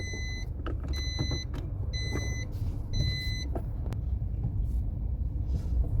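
Nissan car with a CVT transmission (RE0F11A/JF015E) driving forward, a steady low rumble of engine and road noise with repeated electronic beeps over the top, no talking.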